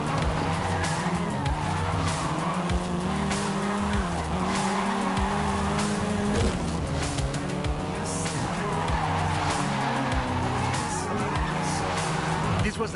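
A seventh-generation Volkswagen Golf R in Forza Horizon 5 drives hard with a loud, sustained engine note and near-constant tire squeal and skidding, with talk running over it.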